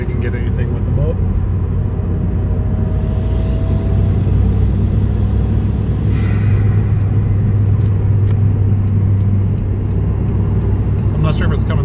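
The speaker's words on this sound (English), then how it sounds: "it does sound really good with the stock blow-off valve and just a intake on it" Cabin sound of a Hyundai Genesis with an intake and stock blow-off valve accelerating with the windows up, a dense steady low engine rumble filling the car with faint higher whine and occasional clicks.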